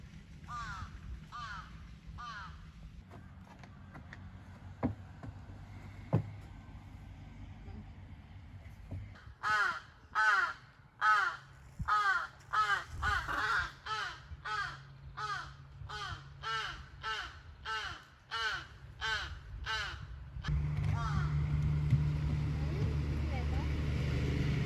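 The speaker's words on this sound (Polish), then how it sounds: "Oczywiście opanowany przez kruki." Ravens in a park on Rishiri island give loud, rhythmic rasping caws, a few at first and then a long run of repeated calls. A low vehicle rumble sits underneath, and voices come in near the end.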